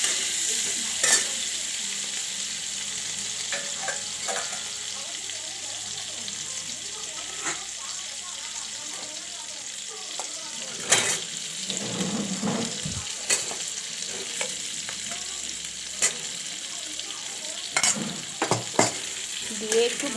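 Green chillies and tomato frying in oil give a continuous close sizzle, broken by repeated scraping stirs and light clinks of a utensil against the pan.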